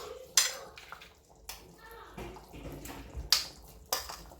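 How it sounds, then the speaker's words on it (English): Egusi and okra soup with palm oil being stirred in a cooking pot, with scattered spoon scrapes and clinks against metal, intermittent and close, amid faint kitchen background. "Now I'll just stir it and add the egusi first and allow it to cook."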